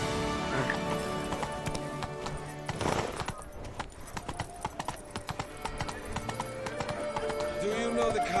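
Roach, the horse in The Witcher 3, gallops with quick, rhythmic clip-clop hoofbeats and a whinny, set against game music and ambience, while a voice speaks over part of it.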